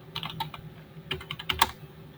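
A password being typed on a computer keyboard: a quick irregular run of crisp key clicks, close and fairly soft, with a brief burst of faster taps near the end and no talking.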